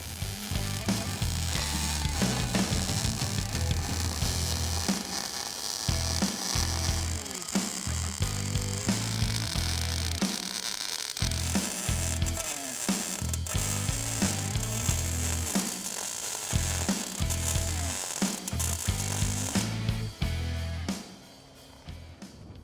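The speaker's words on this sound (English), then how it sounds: "welding up all of our brackets and tabs is super easy" Steel brackets and tabs are welded onto a Jeep chassis with a continuous crackling, sizzling buzz in bursts and short pauses, close and loud with no talk, fading out at the end.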